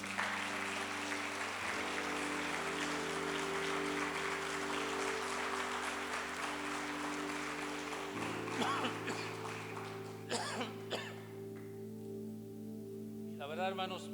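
A church congregation applauds in a steady, sustained patter while sustained keyboard chords ring underneath, the clapping thinning out near the end as a voice begins.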